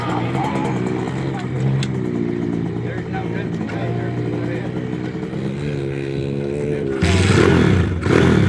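Kids' dirt bike engine at a motocross track, a close, loud buzzing two-stroke drone that revs and climbs steadily, rising sharply near the end, with people talking over it.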